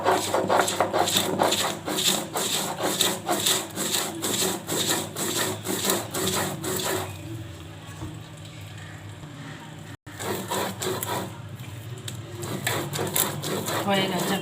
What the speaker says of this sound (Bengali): হয়ে গেছে বাটা, মোরলা মাছের মাথা বাটা হয়ে গেছে।